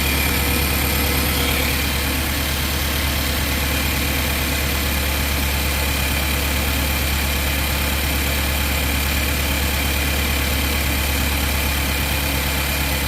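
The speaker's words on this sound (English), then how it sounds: "That cylinder's running a little rough." The engine of a Nissan NV 3500 idles with one cylinder misfiring and running rough, a loud, steady, close drone with a low throbbing vibration and no talk.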